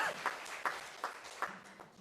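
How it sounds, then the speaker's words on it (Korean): A church congregation claps in praise after a hymn, with a handful of sharp, irregular clap bursts spaced through a quiet room, fairly faint and not sustained. "할렐루야. 영광의 박수 올려야 되겠습니다."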